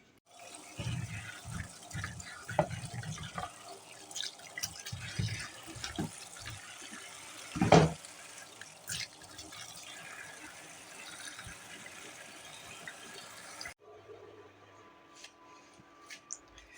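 Fresh green chillies are washed under a running tap, with water splashing and gushing close by for most of the clip, then cutting off near the end.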